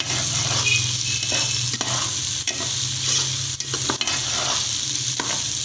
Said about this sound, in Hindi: ये देखें 5 मिनट तक हमने इसको अच्छी तरह फ्राई करना है।